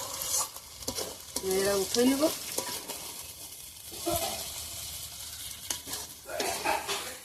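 Food sizzles and crackles in hot oil in a pan while a Bengali home cook fries and stirs, with intermittent utensil scrapes and clinks and a few short spoken words over the steady frying hiss.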